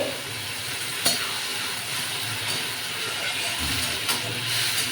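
Water poured into a hot cooking pan gives a steady, close hiss and sizzle of steam, with a few faint clinks over the top.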